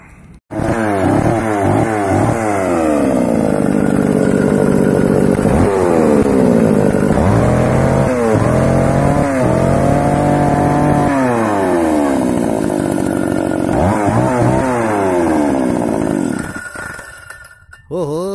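A small homemade engine runs loudly up close, revving up and down repeatedly with a rough buzzing drone before cutting off near the end.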